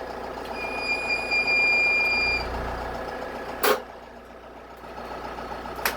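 A new tractor's diesel engine runs steadily near the microphone with a deep, truck-like rumble, while a thin, high warning tone sounds during the first few seconds and a short, sharp burst of noise breaks in near the end.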